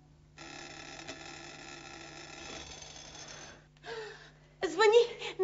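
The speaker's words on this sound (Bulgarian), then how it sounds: "Звъни! Най-после си имам истински звънец." A newly installed electric bell, its clapper rattling against the box, rings with a steady metallic buzz for about three seconds, then gives a short second burst before a voice exclaims.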